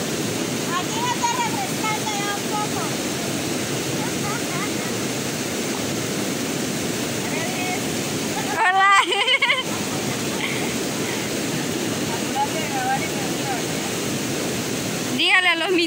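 River water rushes steadily while people bathe in it, a constant roar with splashes and faint distant voices, broken by two brief louder bursts of splashing or wind close to the microphone.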